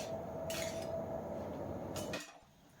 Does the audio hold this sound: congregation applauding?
no